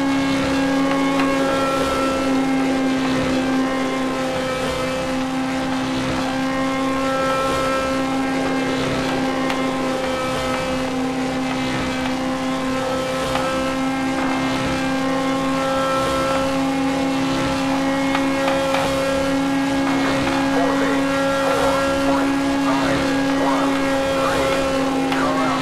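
Race car engines roar continuously in the racing sim NASCAR Racing 2003, with an Indy car at speed: a steady, dense engine drone with slight rises and falls in pitch and no break throughout.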